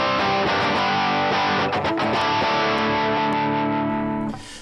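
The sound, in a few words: input distortion from TC-Helicon VoiceLive 3 amp preamp gain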